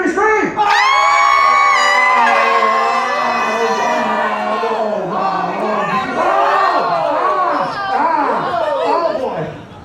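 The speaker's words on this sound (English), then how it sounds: "1, 2, 3, scream!" A crowd of adults and children at a horror makeup show at Universal Studios screams together on cue, a loud sustained mass of shrieks and whoops that trails into scattered cheering and voices.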